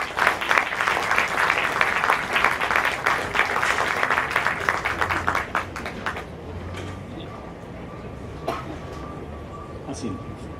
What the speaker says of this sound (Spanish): lo invitamos a subir al estrado con un cálido aplauso